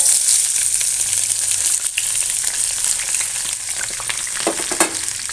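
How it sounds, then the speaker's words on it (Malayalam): Curry leaves, shallots and garlic fry in a pan with a loud, dense sizzle, joined by occasional stirring scrapes and taps near the end. "ഫസ്റ്റ് തന്നെ ഈ കറിവേപ്പിലയും ചീരുള്ളിയും വെളുത്തുള്ളിയും കൂടെ ആഡ് ചെയ്യാം"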